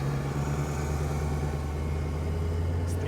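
A Ford Shelby GT500 Mustang rolling out slowly on a race track, its engine a deep, steady low rumble at low speed, close and continuous with no talk.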